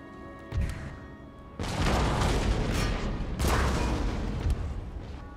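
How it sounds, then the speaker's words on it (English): Artillery in the Empire: Total War game fires during an assault on a hilltop fort: a short thump, then two heavy, sustained booming blasts with rumbling tails, fairly loud and close. "I'm gonna have my artillery target theirs."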